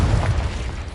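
A Confringo explosion spell goes off in Hogwarts Legacy, a heavy, rumbling blast with strong low-end boom that fills the short moment.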